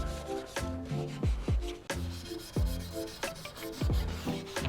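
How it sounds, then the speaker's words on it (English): Repeated abrasive scuffing strokes on the bare metal of a VW Beetle ball joint beam being cleaned up before welding, a close, rhythmic rasping rub that comes in uneven bursts with no voices. "So we're just gonna scuff this up, clean everything off."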